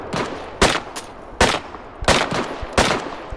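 Gunfire in the video game Deadside comes as about five sharp, loud shots at uneven intervals, each a short crack over faint background noise.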